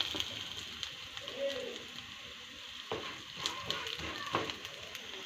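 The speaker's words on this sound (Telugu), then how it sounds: "పప్పులు కొంచెం వేగిన తర్వాత ఇందులోకి 1/2 టేబుల్ స్పూన్ దాకా ధనియాలు, 1/2 టీ స్పూన్ దాకా జీలకర్ర, 1/2 టీ స్పూన్ దాకా మెంతులు కూడా వేసేసి లైట్గా వేయించుకోవాలి" Dals, coriander seeds, cumin and fenugreek roast lightly in a pan for hotel-style ginger chutney, a faint continuous sizzle with occasional stirring scrapes and soft taps.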